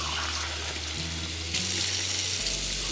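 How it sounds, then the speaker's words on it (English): Tap water runs steadily over chocolate airbrush parts being rinsed in a sink, a close, continuous splashing hiss with a brief change in the flow midway. "Rinse it all off."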